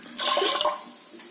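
Water from a coconut-grinding mixer jar poured into a pot while cooking, a short gushing splash lasting under a second, close and fairly loud.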